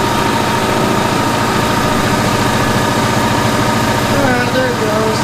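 Mercury 9.9hp outboard motor running at a steady idle, a continuous close, even engine drone with no break.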